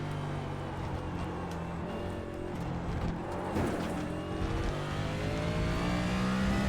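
A heavy stock car's engine in the iRacing simulator at Autódromo Hermanos Rodríguez drones steadily and fairly quietly, then revs up with rising pitch toward the end.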